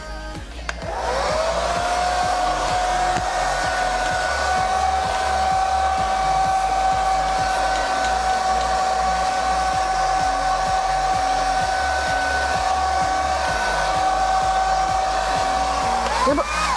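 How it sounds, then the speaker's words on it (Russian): A hair dryer blows steadily at close range, a loud continuous whirring hiss with a high whine, switching on at the start and running to the end. "наш фон еще не подсох, поэтому можно использовать фен"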